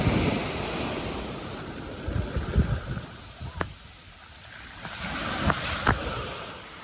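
Large ocean waves roll and break continuously on Kakolem beach in Goa, a broad surf roar with gusty wind on the microphone and a few sharper splashes.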